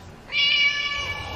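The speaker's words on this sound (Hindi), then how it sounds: "ये बिल्ली, ये तो वही बिल्ली है" A cat meows once in a drawn-out, bright cry in a tense audio drama scene on a cold street, clear and fairly close over a quiet background.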